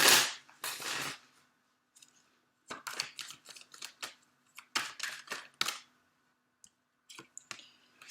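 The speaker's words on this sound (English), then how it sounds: "we're gonna pull a couple of tarot cards" Tarot cards are shuffled and pulled from a deck close by, first as a riffling burst and then as a string of crisp snaps, flicks and clicks with quiet gaps between them. No talking is heard.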